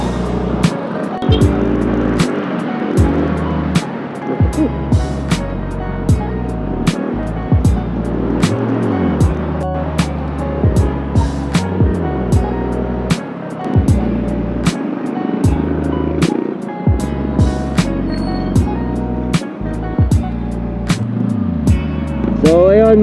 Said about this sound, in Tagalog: Oh, grabe, ang traffic.